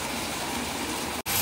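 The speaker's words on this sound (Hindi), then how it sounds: "बहुत तेज़ बारिश हो रही है" Heavy rain pours steadily outside during a thunderstorm, a dense continuous wash of water noise close by, broken by a very brief dropout near the end before the downpour resumes loud.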